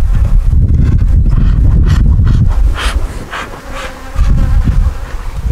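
Close, loud buzzing of many bees swarming around an opened hive, a dense droning hum that swells and dips, with occasional soft bumps and rustles.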